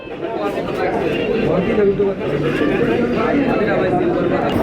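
Pigeon market in Saruliya, Bangladesh: constant crowd chatter and bargaining voices fill the air, with faint pigeon coos and bird sounds mixed in beneath the talk.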